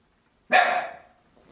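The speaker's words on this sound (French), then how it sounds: "Encore le chien qui est en train de craquer." A dog gives a single loud, close bark with a short ringing tail, standing out alone against a quiet room.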